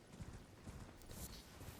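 Horse hooves clip-clop steadily as a rider gallops in the video game Elden Ring, a quiet, continuous patter of repeated footfalls with faint background game ambience.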